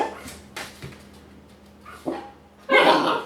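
A young female puppy gives a few short barks and yips spaced apart, ending in a louder burst of vocal yapping nearby, with a low hum behind.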